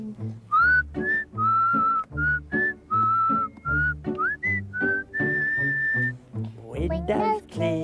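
A bright, clear whistled tune in short melodic phrases over a low musical backing, ending in a quick burst of sound.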